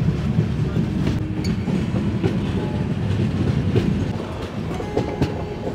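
A train on the Northeast Frontier Railway near Kamakhya rumbles steadily along the rails with a continuous low roar and faint rhythmic clatter, heard close from on board, no voices.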